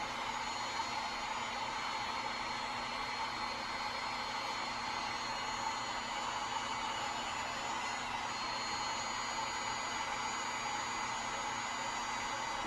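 A heat gun blows a steady, even hiss throughout while heating PVC pipe to soften it for a dust collection hose adapter. Nothing else is heard.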